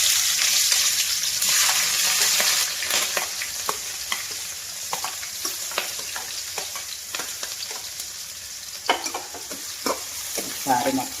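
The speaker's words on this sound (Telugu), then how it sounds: "ఆయిల్ వేడైందండి. దానిలో 2 ఎండుమిరపకాయలు తుంచి వేసాను, అలాగే 1 స్పూన్ వరకు జీలకర్ర, ముందుగా కట్ చేసి పెట్టుకున్న ఉల్లిపాయ ముక్కలు," Dried red chillies, cumin, chopped onion and green chilli fry in hot oil in a pan for an egg and amaranth-leaf porutu. A steady, dense sizzle runs throughout, with scattered scrapes and clinks of stirring.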